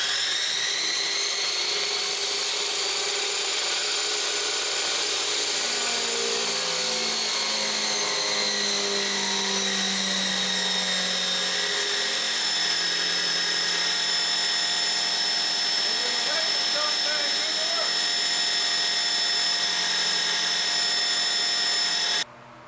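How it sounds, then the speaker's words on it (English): Chicago Electric cutoff wheel from Harbor Freight running under load while cutting steel, a steady high whine with shifting tones held for over twenty seconds before stopping abruptly, loud and close. "The Chicago Electric cutoff wheel from Harbor Freight quit before it was done."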